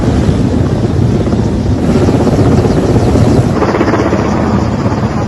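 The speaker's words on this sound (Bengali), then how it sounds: "হেলিকপ্টারের মাধ্যমে নজরদারি চলছে বাংলাদেশে" A helicopter flies overhead on surveillance during quota protests in Bangladesh, a loud, steady rotor roar with wind buffeting that fills the whole stretch, with no voices.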